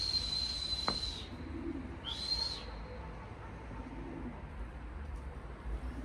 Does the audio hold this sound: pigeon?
yes